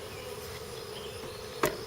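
Honey bees buzzing inside a hive box, a steady low drone that runs throughout at moderate level, broken once near the end by a short sharp knock.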